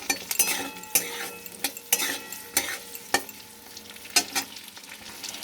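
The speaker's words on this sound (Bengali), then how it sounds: "ক্যাপসিকামগুলোও দিয়ে দেব, দিয়ে আমি হালকা আছে ভাজবো।" Capsicum and onions frying in a pan for chilli soybean, a soft steady sizzle broken by sharp scraping strokes of a spatula against the pan every second or so, close up and without speech.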